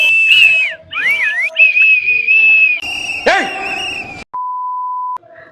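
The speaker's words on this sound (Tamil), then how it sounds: "பா விசில் அடிச்சு அடிச்சு அடிச்சு அடிச்சு தொண்டை வந்து ரொம்ப வத்தி போச்சு" A whistle is blown over and over in short, shrill blasts with changing pitch, loud and close, ending in one steady held tone.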